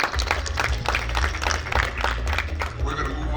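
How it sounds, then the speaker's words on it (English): An audience applauds at a boxing press conference in Dubai, with steady clapping and crowd noise throughout while a voice talks over it. "Ladies and gentlemen, please give him a round of applause."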